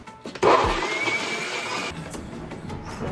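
A kitchen blender purees blueberries with a teaspoon of cornstarch, starting abruptly with a loud whirring burst that settles into a steady motor whine for about a second and a half, then drops to a lower churning hum.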